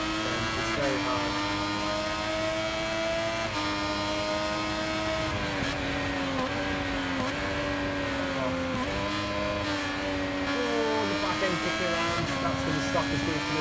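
A motorcycle engine in the MotoGP26 racing game revs loudly and continuously, its pitch climbing and then dropping sharply at each downshift, repeating through a lap.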